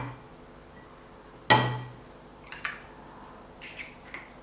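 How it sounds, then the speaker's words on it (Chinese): Two eggs are cracked into a plate: one sharp shell crack and splat, then fainter taps and a second softer crack, close up in a quiet kitchen. "第2盘里打入2颗鸡蛋"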